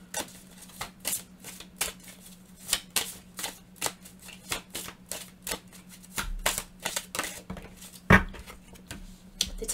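Tarot cards being shuffled and handled: an irregular run of crisp flicks and slaps, close and moderately loud, with one sharper knock near the end and no talking.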